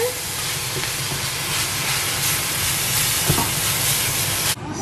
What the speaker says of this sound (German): Und hier ist das Gyros am Brutzeln